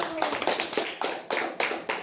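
Students clapping in an Indonesian classroom, a roughly regular series of about eight loud group claps in rhythm, close by, with a brief voice near the start.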